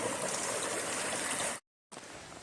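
Small creek on the Appalachian Trail flowing steadily at a trail crossing, a close, continuous rushing babble of water that cuts out briefly near the end and then resumes.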